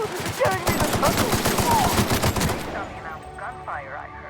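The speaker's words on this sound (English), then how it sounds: "Gunfire, I heard." Rapid bursts of gunfire in the sci-fi video game The Outer Worlds, loud and close, with dense overlapping shots for a few seconds before fading into quieter background sounds.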